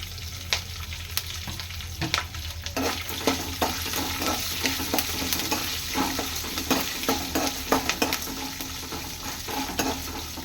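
Curry leaves and green chillies fry in a pan for a mango chitranna breakfast, a continuous crackling sizzle broken by frequent spatula scrapes and clinks against the pan, close and without talking.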